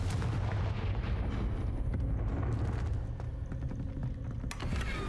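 A Confringo fire spell explodes in Hogwarts Legacy on PC, a heavy booming blast with a dense, rumbling roar that fills the whole stretch at steady loudness, with a sharper crack near the end.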